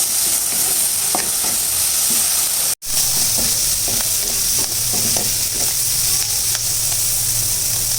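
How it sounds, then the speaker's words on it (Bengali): Shrimp fry in a pan with a loud, close, steady sizzle and crackle and occasional stirring scrapes. The sound drops out for a moment partway through, then the sizzle resumes unchanged. "আমার মাছটা ভাজা হয়ে গেছে"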